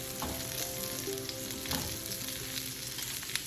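Pieces of chicken fry in a pan, browning as they are flipped, giving a loud, constant close-up sizzle with faint clinks of turning.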